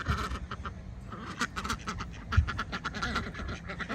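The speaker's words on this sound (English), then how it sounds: "This is the most ridiculous thing, to have all of these ducks hanging out here by the barn" A group of ducks quacks by a barn in their pasture, repeated rhythmic quacks overlapping in bursts, moderately near and steady throughout, with no talk.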